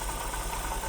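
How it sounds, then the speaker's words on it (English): Close, steady idle of an Opel Corsa engine running slightly uneven, a mid-pitched hum with faint rhythmic wobble, short and without talk. "Now she's idling and kind of stable"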